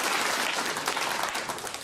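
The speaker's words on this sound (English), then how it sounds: "a really big round of applause, please" An audience applauds a voice choir, a dense and even roar of many clapping hands sustained throughout, fairly loud with no talk over it.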